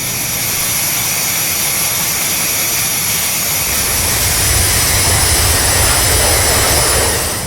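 A FlyJSim Boeing 727-200 in X-Plane 10 climbs toward flight level 150 after passing 10,000 feet, its jet engines giving a loud, steady, continuous roar that swells slightly in the second half.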